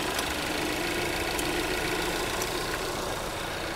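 Hyundai Tucson engine idling steadily in a garage, a constant close mechanical hum with faint ticking, alone and unchanging.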